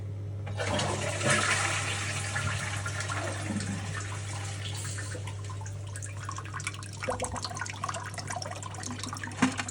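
A toilet flushes in a camper bathroom being winterised, a loud rushing swirl of water starting near second one, roaring for several seconds then fading into trickles and drips under a steady low hum.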